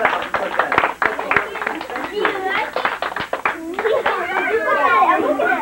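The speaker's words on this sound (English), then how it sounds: "Everybody give my two volunteers a big round of applause" Scattered hand claps from an audience at a children's birthday party magic show, sharp and uneven, mixed into lively children's chatter and excited voices throughout.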